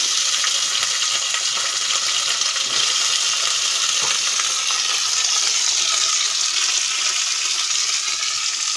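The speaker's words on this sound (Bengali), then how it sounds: "তেল গরম হয়ে গেছে, এখন আলুগুলো ভেজে নেব।" Potatoes fry in hot oil, a loud close continuous hiss and crackle that holds steady without a break.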